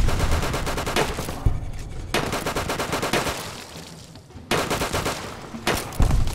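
Rapid gunfire in Fallout: New Vegas during a fight with Viper Gunslingers, including shotguns; three loud bursts of rattling shots come close together, with short gaps between them.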